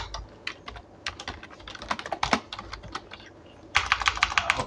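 Keys clatter on a computer keyboard while numbers are entered into a Python calculator program, an irregular run of close, crisp clicks with a denser burst of rapid strokes near the end, no voices.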